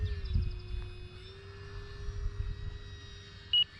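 An E-flite RV-7 RC model airplane with a 1.1 m wingspan flies overhead, its motor holding a steady, fairly distant whine against low outdoor wind rumble.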